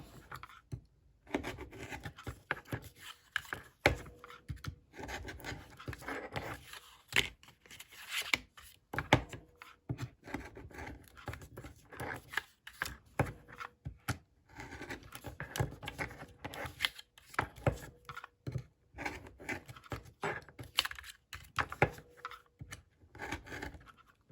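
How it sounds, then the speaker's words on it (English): Paper being cut for 3x4 mini notebooks with cinch binding. Close, repeated scraping and rasping cuts come in uneven strokes over a long stretch, with brief quiet gaps between them and no speech. "Now I'm cutting the next one."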